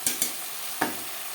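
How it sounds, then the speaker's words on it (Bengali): Spices and mashed tomato for a tilapia curry with potato and cauliflower sautéing in a pan, a steady close sizzle with a couple of sharp spatula scrapes and stirs. "কাঁচা গন্ধ যাওয়া পর্যন্ত মশলা বেশ ভালো করে কষিয়ে নেবে"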